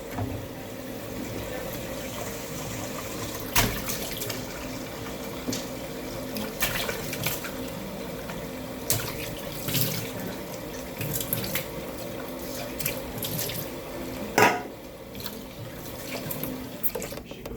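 Tap water runs steadily into a sink while goat meat and a cutting board are rinsed, with occasional knocks and splashes over a continuous hiss of flowing water, and someone talking now and then.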